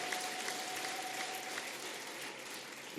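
A church congregation claps together in a steady, dense patter that holds evenly throughout and sounds somewhat distant and soft.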